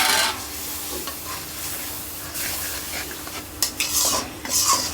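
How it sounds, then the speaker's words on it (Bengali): Spice paste of garlic, salt, chilli, turmeric, coriander and cumin is stirred over browned onion in a hot pan, giving a steady sizzle broken by spatula scrapes and metallic clinks that grow louder toward the end. "রসুন বাটা লবণ মরিচের গুঁড়া হলুদ ধনিয়া জিরা যা যা লাগে সব কিছু দিয়ে এখন আগে মশলাটা কষাই নেই"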